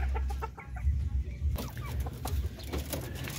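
Darag native chickens, hens and roosters at a breeder farm, clucking repeatedly at close range over a low rumbling background.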